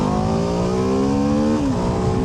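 A BMW F450 GS motorcycle engine pulls steadily under acceleration, its close, continuous drone rising in pitch before a brief dip as it shifts, then climbing again, loud and unbroken with no talking.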